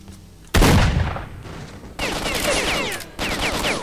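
Shotgun blasts in the video game S.T.A.L.K.E.R.: Shadow of Chernobyl: one loud, close boom with a decaying tail, then two more heavy gunfire bursts about a second apart, with no talking.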